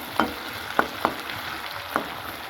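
Winter vegetables fry in a pan with salt, a soft, continuous sizzle broken by four short scraping stirs spread over a couple of seconds.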